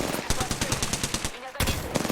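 Rapid machine-gun fire aimed at the player in a video game, a loud stream of evenly spaced bursts that breaks off briefly before the firing resumes in a fresh volley.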